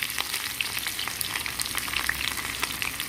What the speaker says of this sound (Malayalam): ചെറിയ ഉള്ളി ചെറുതാക്കി അരിഞ്ഞത് ഇട്ട് കൊടുക്കുന്നുണ്ട്.